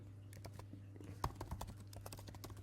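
Fingers type quickly on a computer keyboard, a quiet close stream of rapid key clicks with one sharper tap.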